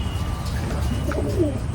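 Several gentle coos from pigeons in a loft rise and fall close by, layered over a steady low hum of surrounding noise.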